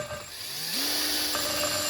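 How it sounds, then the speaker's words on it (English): A diamond drill bit grinding into a porcelain toilet tank, a steady high whine that rises in pitch and holds as the bit bites, loud and close, with no talking. "Keep focusing on positioning the drill precisely rather than trying to add force to the cut."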